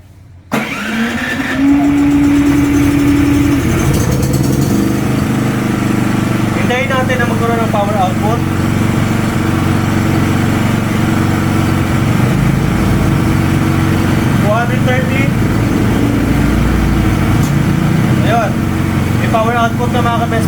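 A Philking 4200 generator cranks and catches, then settles into a loud, steady engine drone close by, with a person talking over the running engine.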